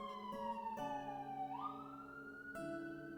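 An ambulance siren passes outside open doors, a quiet, far-off wailing tone that dips and then climbs again, with a couple of brief knocks nearby.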